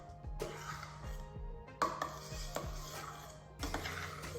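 Whipped cream for a no-gelatine cheesecake is stirred in a bowl, with a utensil scraping and knocking against the sides in a steady, repeated rhythm, close and fairly quiet.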